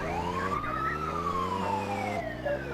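In Grand Theft Auto 2, an ambulance's siren wails loudly and steadily in a slow rising and falling tone over a low engine hum, with no talk.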